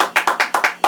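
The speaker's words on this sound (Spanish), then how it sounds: "Quiero que con un fuerte aplauso le demos la bienvenida a la hermana Ángela Santana, mi madre." A church audience claps to welcome a speaker: a quick run of about seven sharp, evenly spaced hand claps, close and fairly loud, with no talk over them.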